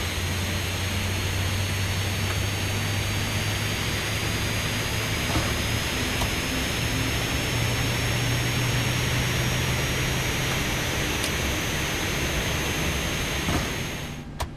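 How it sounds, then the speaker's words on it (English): Boeing 737-800 jet engines spool up in the X-Plane 12 flight simulator, a loud, steady whine and roar with faint high tones holding for over ten seconds before cutting off abruptly. "Just waiting for this to spool up."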